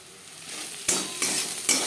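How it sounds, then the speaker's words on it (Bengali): Onion frying in a pan for red spinach, a soft sizzle that grows louder, punctuated by three sharp stirring scrapes at roughly even intervals, close up and without voices. "পেঁয়াজ লালচে করে ভেজে নেব"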